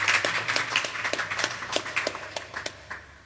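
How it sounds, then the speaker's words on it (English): Scattered claps from an audience at a homelessness panel event, thin and irregular rather than a full ovation, with sharp individual hand claps at close to moderate range fading out toward the end. "So if we can have a round of applause for"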